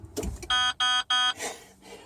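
A car's warning chime, the same tone as its windshield washer fluid alarm, sounds as three evenly spaced electronic beeps, loud and close inside the vehicle.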